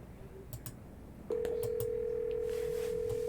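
A phone call being dialed in the visual novel game Scarlet Hollow: a few faint clicks over soft background ambience, then a steady, clear dial tone that continues to the end.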